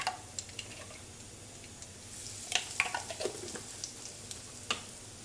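Mustard seeds, fenugreek and asafoetida for sambar sizzling in hot oil, a low steady fry with scattered sharp pops and crackles bunched in the middle, close and fairly quiet.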